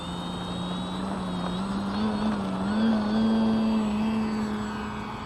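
A Skynetic Bison XT STOL RC model airplane with a 1750 mm wingspan flies overhead, its electric motor giving a steady whining drone that swells and shifts in pitch as it passes.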